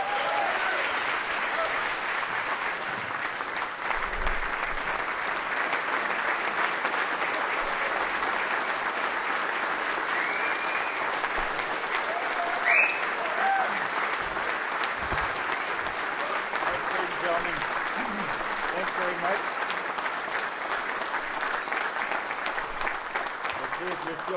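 A large dinner audience at a military combat development event applauds General James Mattis, with dense, steady clapping filling a long stretch alongside a few faint voices.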